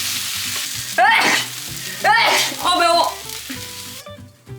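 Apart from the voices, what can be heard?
tteokbokki sauce sizzling and burning in oil pan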